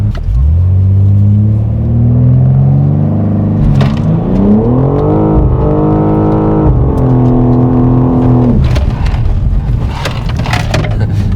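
A track car fitted with Hoosier TrackAttack Pro tires launches on launch control, its engine droning and rising steadily in pitch as it accelerates hard, loud and close throughout with no talk.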